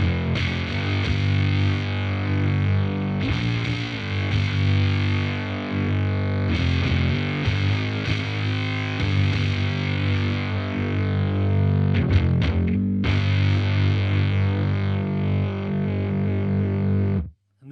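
Guitar power chords played through an EarthQuaker Devices Bit Commander octave fuzz, thick, buzzy sustained chords with a few brief gaps and changes, loud and alone until an abrupt cutoff.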